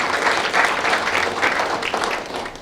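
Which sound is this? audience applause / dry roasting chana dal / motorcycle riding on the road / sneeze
audience applause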